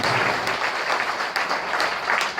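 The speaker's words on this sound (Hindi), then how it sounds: "एक बार पुनः जोरदार तालियों से आप सब लोगों का स्वागत करता हूं" Loud audience applause welcoming everyone at a political cadre meeting in Thane, Mumbai, a dense, continuous roar of many hands clapping at full strength across the whole stretch.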